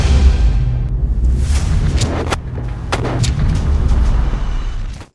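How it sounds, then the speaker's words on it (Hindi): Booming gunfire in a combat scene involving a Hamas sniper targeting a Merkava tank commander, with heavy sharp reports cracking over a dense rumbling background, several impacts spread across the clip. "स्नाइपर गोली चलाता है"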